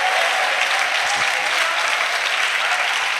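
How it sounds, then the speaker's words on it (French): A church congregation at a missionaries' retreat opening applauds and cheers in acclamation of Jesus Christ, a dense, continuous wash of clapping from a large crowd, steady and loud throughout. "Acclamation à Jésus-Christ."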